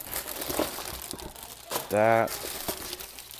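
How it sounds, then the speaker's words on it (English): Plastic wrapping is pulled off an Icon Airflite motorcycle helmet, giving close, crackling crinkles in short bursts while someone talks over the handling. "So take take the plastic out."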